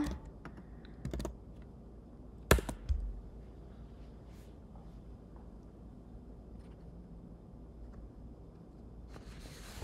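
Computer keys tap in a quick burst and then in sparse clicks, close to the mic and fairly quiet against a low room hum, with no talk.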